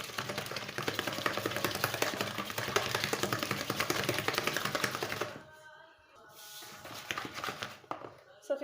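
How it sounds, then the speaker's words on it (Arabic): Eggs and vanilla are beaten together for cake batter in a bowl, giving a rapid, steady clatter that stops partway through, while someone talks. "كنخلط مزيان الفاني مع البيض."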